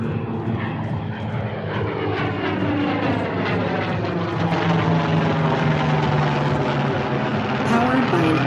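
An F4U Corsair with an 18-cylinder Pratt & Whitney R2800 radial engine drones steadily overhead at an air show, a loud continuous propeller roar that shifts slowly in pitch as it passes.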